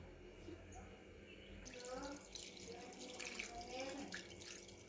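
Water poured into a pot of salted chicken pieces for a Mangalorean ghee roast, a steady splashing, gurgling pour that swells after a quiet start and runs on under low room noise.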